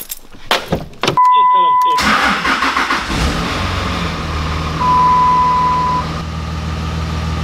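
A Cummins diesel engine cranks with a few quick turns, catches and settles into a steady, close idle, with tonal beeps sounding over the cranking and again during the idle.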